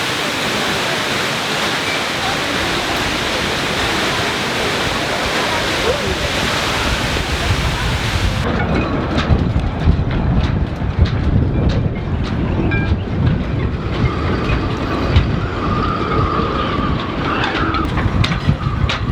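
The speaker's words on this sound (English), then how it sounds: "as you can see and hear, it's rather blowy. It's blowing between 15 and 17 knots" Strong wind gusting at 15 to 17 knots around a sailboat moored in Marseille, a loud continuous roaring rush with rattling and flapping from the rigging, steady throughout.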